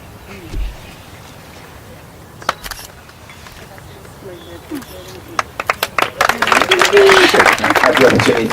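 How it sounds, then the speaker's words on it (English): An audience applauds award winner Ricky at a presentation. Scattered claps begin midway and swell into loud, sustained applause by the end, with talk before it. "Big round of applause."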